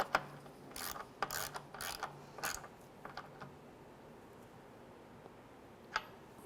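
A wrench ratchets to tighten a bolt on a 2005–2010 Chevrolet Cobalt radiator, a few short close clicking bursts followed by quieter scattered ticks and one last click.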